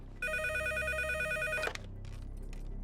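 A telephone rings in a house with a steady electronic ringing tone, loud and close, that stops abruptly partway through, leaving low background noise.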